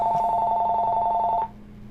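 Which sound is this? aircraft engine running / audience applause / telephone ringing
telephone ringing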